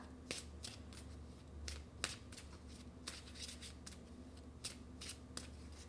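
Tarot cards are handled and drawn from a deck, giving a quiet series of crisp snapping flicks at irregular intervals over a soft background hiss.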